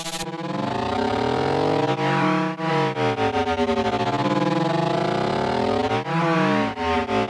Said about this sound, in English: The high pass filter here with the drive up is going to push all those frequencies we cut just before